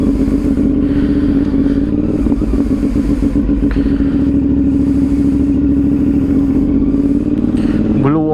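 CFMOTO NK450 motorcycle engine running on a road ride, a loud steady rumbling drone with rhythmic pulsing, rising in revs sharply at the very end, with clattering wind noise throughout.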